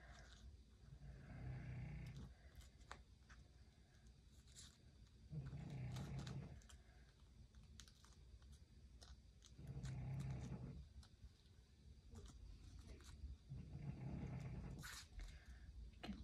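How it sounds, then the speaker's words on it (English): A pet dog snores while asleep after a scare, with slow, loud breathing swells roughly every four seconds, close by in a quiet room. "Nothing like hearing your dog snore, especially after a scare."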